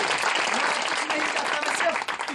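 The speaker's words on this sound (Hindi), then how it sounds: "जोरदार तालियां।" Loud, dense applause fills a church hall during a sermon, with many hands clapping continuously and close throughout.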